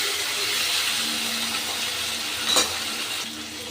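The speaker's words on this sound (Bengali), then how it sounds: "আমি সবজির সাথে আর ওই মশলার সাথে একটু ভালো করে কষে নিচ্ছি" Vegetables with ginger and spices sautéing in a pan for a spicy tilapia curry, giving a continuous close sizzle with one brief scrape of stirring partway through and no voices.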